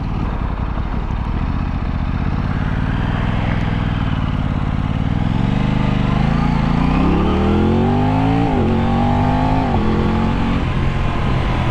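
A 2023 Aprilia RS660 parallel-twin sport motorcycle revs hard through the gears, its loud, close engine note climbing in pitch again and again, with quick auto-blip downshift barks near the end and no talk.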